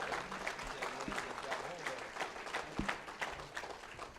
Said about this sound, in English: How about a round of applause for this young yoder